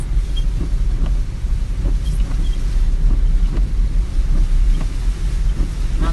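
A car creeps slowly along a flooded road, its tyres churning through deep water with a continuous rushing, sloshing wash and low rumble, loud and close throughout.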